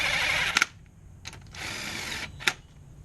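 Bolts being run down on a 2001 Ford Escape 3.0L compressor: short bursts of a whirring power tool, with a few sharp clicks in between, fairly quiet and close.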